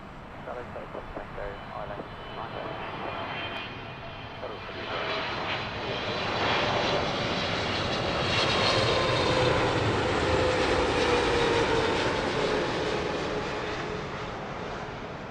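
Airplane engine roars as it flies past at Heathrow Airport, building from a distant whine to a loud, sustained rumble that peaks and then begins to fade.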